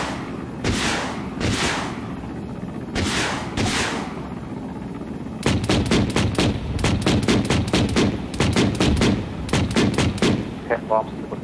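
A helicopter door gunner in the military video game Arma 3 fires loud gun bursts: several long sustained volleys, then a rapid run of short, evenly spaced bursts close by.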